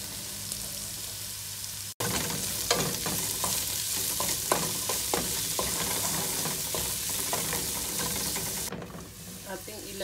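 Onion and garlic sauté in a pan with a dense, continuous sizzle, broken by clinks and scrapes of stirring, loud and close, with a brief pause near the start and the frying easing toward the end.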